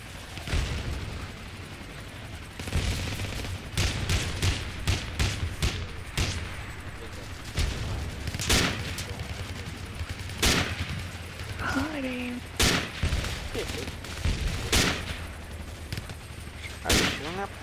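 Dense gunfire in the military shooter Project Reality, loud sharp shots and bursts in irregular rapid clusters, with voices talking in the background.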